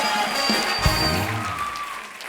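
Studio audience applause on a comedy talk show for Vicky Kaushal and Sara Ali Khan, a soft wash of clapping beneath sustained music tones, with one brief thump partway through.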